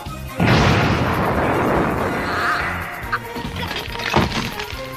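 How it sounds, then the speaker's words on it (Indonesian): In a Dragon Ball cartoon, a laser blast shatters Android 16 with a sudden loud boom, followed by a sustained crashing roar and debris-like impacts. "Dia pun langsung menembakkan sebuah tembakan laser ke arah Android 16 yang akhirnya membuat tubuhnya hancur menjadi berkeping-keping"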